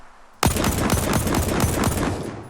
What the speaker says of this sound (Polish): strzelać pojedynczymi strzałami